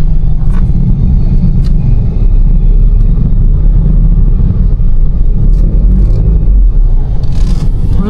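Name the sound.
motor tricycle driving in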